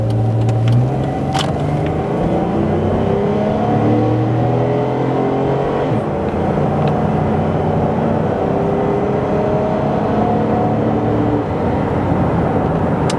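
A used car's engine under hard acceleration, a loud steady drone with rising harmonic sweeps as it pulls through gears, continuous and close with no talking.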